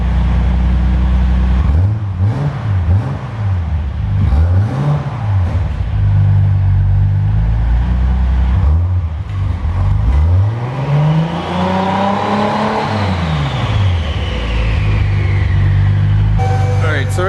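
A Nissan Skyline R33 engine warming up, a loud, close, steady idle rumble repeatedly revved up and back down in rising and falling sweeps, one long rev climbing higher midway.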